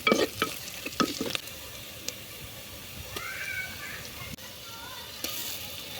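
Green chillies sizzling in hot oil with ginger-garlic paste being stirred in for a Dhaba-style palak chicken, with a few sharp scraping stirs early on, then a low steady fry and occasional clinks.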